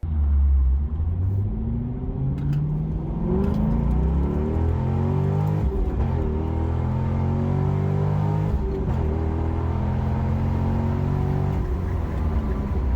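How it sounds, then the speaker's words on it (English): A Chevrolet Corvette C6 with an LS2 V8 runs a wide open throttle pull, a loud, deep engine roar that climbs steadily in pitch, with a brief dip at a gear change, close and sustained with no talking. "when I scanned the first wide open throttle C6 pull with HP tuners, I was pretty disappointed"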